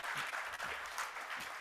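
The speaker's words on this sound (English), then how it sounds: "if we could also have a round of applause for Neil Makija" Audience at a congressional panel summit breaking into applause, a steady wash of many hands clapping at low, distant level for a brief moment.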